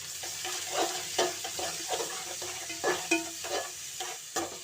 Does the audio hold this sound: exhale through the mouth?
no